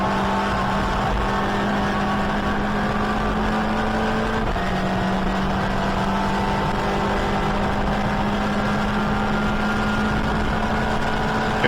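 A Caterham race car on track at Donington Park, heard from onboard. Its engine makes a loud, steady, unbroken drone, with a slight drop in pitch midway through, and no voices.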